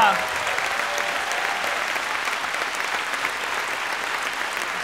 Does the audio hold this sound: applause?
yes